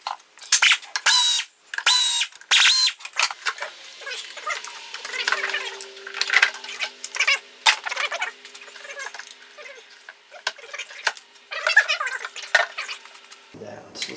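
Metallic clanks and ratcheting clicks from wrenches on a bolt during removal of the engine from a 2006 Subaru Outback, coming in sharp bursts close up with quieter gaps between them.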